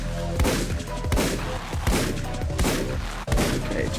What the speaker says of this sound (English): I keep hearing explosions, and there shouldn't be any explosions